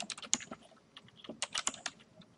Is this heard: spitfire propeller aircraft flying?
no